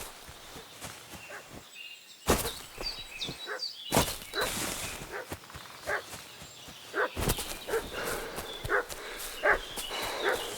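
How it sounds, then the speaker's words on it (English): Agitated dog barking in Kingdom Come: Deliverance 2, a medieval countryside game setting, with repeated sharp barks in irregular bursts, fairly close and loud, over rustling ambience. "What's that dog making such a fuss about?"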